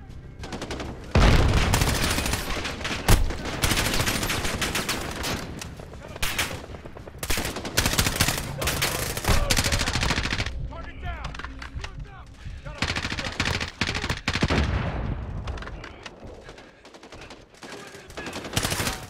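Sustained machine-gun and rifle fire from Call of Duty Modern Warfare combat, with dense rattling bursts and sharp shots. It is loud and continuous over nearly 19 seconds, with brief lulls and faint game chatter underneath.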